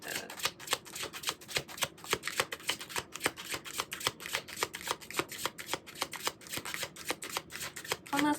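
Tarot cards being shuffled in a steady run of crisp, rapid riffling flicks, close and fairly quiet, with no voice.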